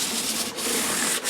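Les Paul guitar frets being sanded with 600 grit sandpaper on a foam-padded scrub block: a steady, close, hissing rub with brief dips between strokes.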